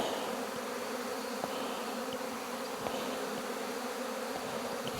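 Honeybees buzz steadily around their hives during an August hive check, a dense, continuous drone with faint occasional ticks, moderately close and unbroken throughout.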